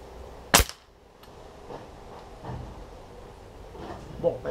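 A Black Ops Sniper Tactical air rifle fires a pellet in a penetration test, one sharp close crack followed by quiet handling sounds and faint background noise.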